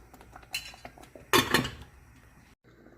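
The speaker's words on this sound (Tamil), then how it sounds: "இப்போ நாம் இதை மூடி போட்டு ஒரு 3 மினிட்ஸ் குக் பண்ணிடலாம்." A metal lid is set onto a boiling pot of beetroot pachadi with coconut masala, giving scattered light clinks and then a louder clattering burst of metal on metal, close by in a quiet kitchen.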